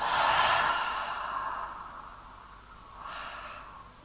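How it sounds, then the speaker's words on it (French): Guided deep breathing in a calming meditation session: a long, airy inhale close to the microphone fades slowly into quiet, then a gentler exhale rises briefly near the end, with no talking over it. "on inspire ensemble. Et on expire."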